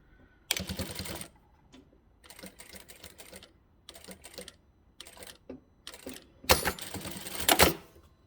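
A sewing machine stitching fabric with back stitches on a small trinket basket: several short bursts of rapid mechanical clatter separated by pauses, close and fairly loud, the last burst the strongest.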